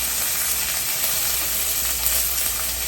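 Parboiled potatoes fry face down in a hot pan beside steak and shrimp, producing a loud, steady, unbroken sizzle up close.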